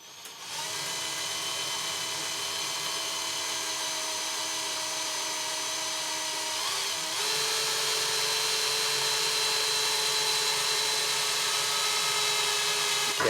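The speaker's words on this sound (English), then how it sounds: "Careful as it drills through, you don't want to dent it." A power drill whines steadily as it drills screw holes through a door while blinds are installed, a continuous close mechanical drone that shifts pitch slightly midway as the bit bites through, with no talking.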